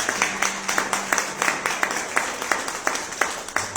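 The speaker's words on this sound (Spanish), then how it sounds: "Se puede despertar y dar unas palmas a Cristo." A church congregation claps along in a steady rhythm at a service, with many hands striking together in even, regular beats that continue throughout.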